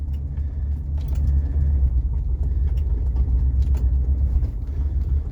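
A cheap old Rolls Royce pulling away from a driveway, a low steady engine rumble close by with faint mechanical clunks, no talking.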